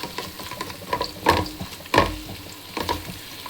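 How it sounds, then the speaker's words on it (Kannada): Onions fry in a pan for chicken gravy, giving a low crackling sizzle punctuated by a few louder spatula scrapes and stirs at close range. "ಈಗ ಆನಿಯನ್ ಎಷ್ಟು ಫ್ರೈ ಆಗ್ಯಾವ ನೋಡೋಣ."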